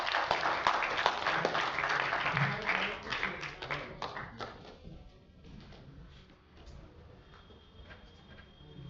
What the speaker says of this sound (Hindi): एक बार बड़ी तालियां दीजिए भाई जतिन जोहार को